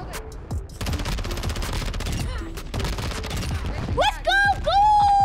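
Rapid automatic MP7 fire in Modern Warfare 2, a steady stream of shots with brief pauses, followed by rising chimes and tones near the end, with voices speaking over it.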